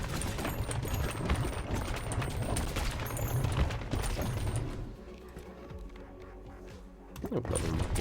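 Rapid shotgun-fusion firing from the video game Ball x Pit crackles densely for about five seconds, then drops to a quieter stretch with scattered hits before a final burst.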